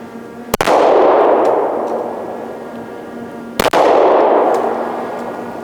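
Two sharp, loud 9mm gunshots from an M&P Shield pistol at a target range, about three seconds apart, each followed by a long ringing decay.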